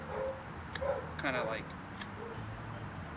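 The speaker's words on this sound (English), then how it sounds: "Apologize for the barking in the background." A dog barks and yips a few times in the background, faint and distant, while someone talks in the foreground.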